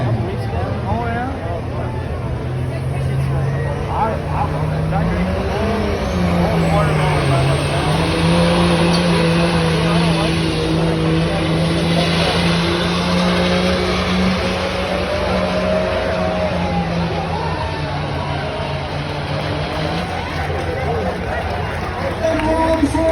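A 2005 Ram diesel truck strains under load at a fairground truck pull, its engine droning loud and steady for over twenty seconds with gradually rising pitch while an announcer talks over it and a crowd murmurs.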